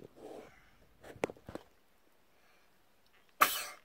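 A single loud sneeze bursts out close by after some soft rustling and a few faint clicks.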